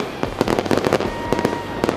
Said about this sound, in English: a legendary fireworks display ended the night perfectly